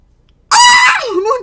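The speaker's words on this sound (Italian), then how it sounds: "Scusate l'urlo." A single loud, shrill human scream, close and sudden after silence, with the pitch sliding downward as it fades out.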